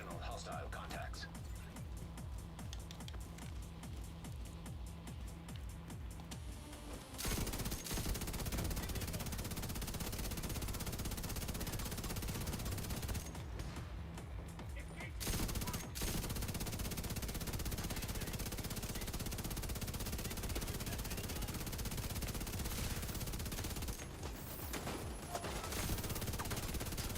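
Automated turrets in The Division 2 fire sustained, dense bursts of rapid gunfire that continue almost without pause for nearly half a minute, loud and close, with brief drops in intensity.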